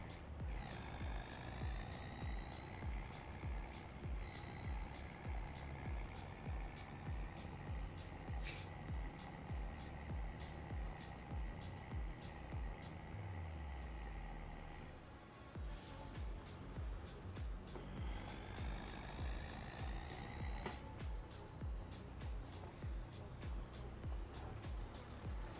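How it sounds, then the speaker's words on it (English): Truck engine in the video game Farming Simulator 25, a steady diesel drone running the whole time with a pitch shift partway through, repeated beeping and a brief air-brake hiss, with no talk. "Even the engine sounds a little putty."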